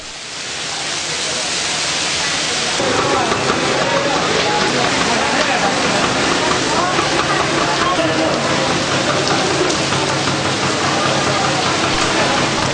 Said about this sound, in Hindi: दोपहर करीब 1 बजे बादलों ने आसमान को ढक दिया और तेज हवाओं के साथ बारिश शुरू हो गई।